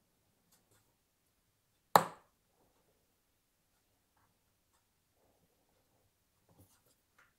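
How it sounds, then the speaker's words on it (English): A Hasal mosaic chopping machine cuts through red marble with a single sharp, close crack, followed by near silence and a few faint ticks. "I'll use my hands to guide it across so as I can cut the width that I'm actually after. And it cuts beautifully."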